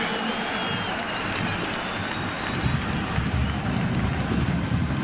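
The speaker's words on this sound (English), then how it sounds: "the crowd loves it" A college football stadium crowd at a Pitt at Syracuse game roars with sustained cheering and applause, a broad steady wash of noise swelling slightly toward the end.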